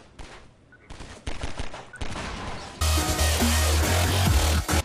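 Incoming gunfire in Half-Life 2, scattered single shots growing into dense rapid automatic fire with a low droning hum, loud and close throughout.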